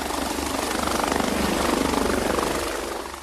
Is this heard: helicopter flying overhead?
yes